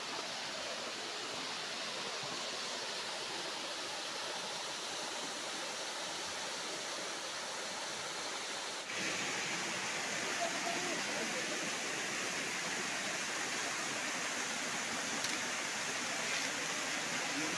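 A steady, loud rush of falling water at Gomnasal waterfall fills the whole stretch, continuous and close, like standing beside a waterfall.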